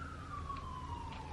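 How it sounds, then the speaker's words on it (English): A distant siren wails with a slowly falling tone, faint and steady under low background noise. "I'm sorry about the sirens."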